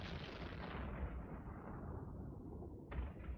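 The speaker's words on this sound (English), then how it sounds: "Start hitting him with our guns too." Ship guns fire in Eve Online during a space fight with a training-tier Tranquil ship: a dense, continuous roar of rumbling blasts with no talk, a fresh loud burst near the end.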